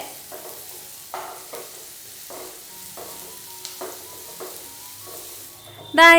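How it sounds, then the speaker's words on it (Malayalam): Onions sauté in a pan for semiya upma, a quiet low sizzle broken by irregular scraping strokes of a spatula stirring, with a sharper louder clatter at the very end. "സവാള ചേർത്ത് കൊടുത്ത ശേഷം നല്ല രീതിയിൽ തന്നെ വീണ്ടും ഒന്ന് വഴറ്റി കൊടുക്കാം."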